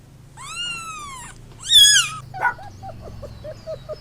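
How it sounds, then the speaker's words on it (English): A kitten meowing in two clear rising-falling cries, the second louder and rougher, followed by a run of short soft squeaks, close and alone with no talk. "kitten,"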